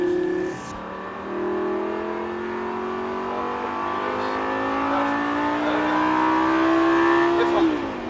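A Lamborghini LP560-4 accelerates hard on a racing circuit during a driving course, its engine note climbing steadily and loud up close over several seconds, with an instructor talking over it.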